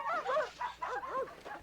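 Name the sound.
dog barking in the movie Stand By Me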